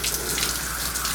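Tap water runs steadily into a tub or sink while a pitbull is being bathed with soap, a constant close hiss and splash with no talking.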